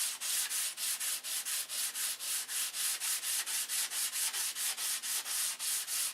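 An airframe being sanded by hand with 150-grit sandpaper, a steady back-and-forth rasping in regular strokes, about three or four per second, close and continuous without talk.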